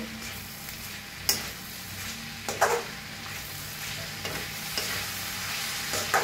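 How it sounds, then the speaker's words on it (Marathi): Cabbage, crushed roasted peanut powder and coriander are stirred together in a pan over a low, steady sizzle, with a few sharp scraping knocks of the spoon spaced a second or so apart. "वरनं टाकायची कोथिंबीर, मिक्स करून घेऊया।"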